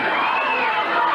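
A wrestling arena crowd at a 1978 Big Time Wrestling event screams loudly and continuously in a brief burst of mixed high-pitched shouting and cheering.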